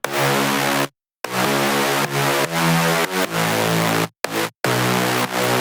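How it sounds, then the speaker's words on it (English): Hardwave synth bass made by dropping a lead layer two octaves, sounding as loud, dense, buzzing sustained notes in a driving pattern with a few abrupt silent gaps between phrases. "Then we have the HARDWAVE bass."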